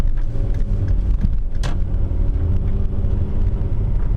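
A car driving through a turn during a driving lesson, with a steady low engine and road rumble, faint creaks and one brief brighter knock partway through, no talk.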